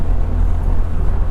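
Car driving along a road on a spirited suspension test drive, a loud steady low rumble of engine and tyre noise with wind, no talking.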